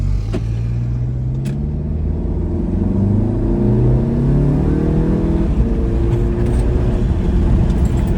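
An Audi A3 carrying a swapped-in S3 engine with a DQ250 gearbox pulls hard, its engine note climbing through the revs in a loud, sustained rumble heard from inside the car.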